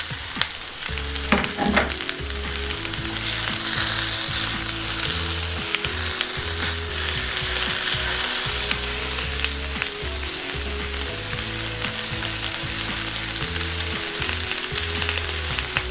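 Beef frying with onions in a cast iron pan, a loud, dense, continuous sizzle with spatula scrapes and stirring knocks throughout, close up and without talk.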